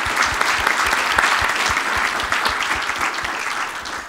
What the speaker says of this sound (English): Please give a round of applause to Stephen.